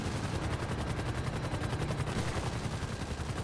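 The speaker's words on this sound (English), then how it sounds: "just shooting him with the pistol" Rapid pistol gunfire in GTA 5 Online during a helicopter battle, with shots cracking in a fast, steady rhythm that fills the whole stretch at close, loud level.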